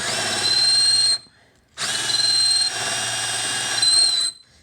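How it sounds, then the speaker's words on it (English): A handheld power drill bores into a piece of wood held down tightly, in two loud whining bursts with a brief stop between them and a high squeal riding on the motor; no one speaks. "my drill just doesn't have the power of a professional commercial driller"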